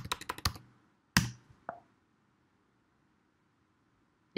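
Keys on a computer keyboard are pressed as a password goes into a terminal: a quick burst of close taps, then two or three separate keystrokes before quiet, with one more click at the very end.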